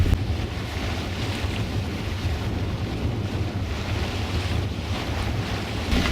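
Gusty wind blows past a sailboat on the water, a continuous loud rushing buffeting the microphone with low rumble and wave wash throughout, no voices.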